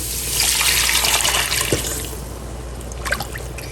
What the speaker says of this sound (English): And then I'm going to add some beef broth.